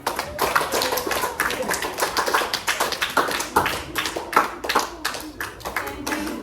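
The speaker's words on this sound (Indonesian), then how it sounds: "Beri dulu aplaus untuk temannya." Schoolchildren in a classroom clap together for a classmate, a dense, steady burst of many hands that runs unbroken, lively and close for several seconds.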